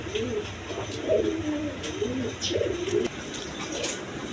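A pair of pigeons coo in a series of low, warbling phrases across several seconds, steady and fairly close, with faint background noise and occasional high clicks.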